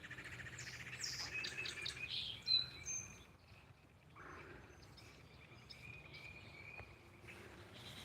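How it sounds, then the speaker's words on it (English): Small birds chirp and tweet from a grape arbor on a hillside in winter, faint and distant, with soft insect-like trilling and quiet outdoor ambience. "I'm seeing a grape arbor filled with birds"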